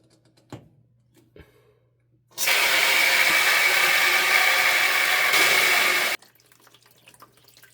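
Water gushes from a hot water heater tank drain for several seconds in a steady loud rush, bracketed by a few clicks and quiet before and after.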